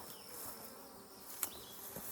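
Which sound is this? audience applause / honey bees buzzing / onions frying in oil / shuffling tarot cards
honey bees buzzing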